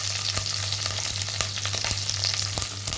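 Green chillies sizzle in hot ghee, a steady close frying hiss with a few sharp crackles and spatters and a low hum running underneath, no voices.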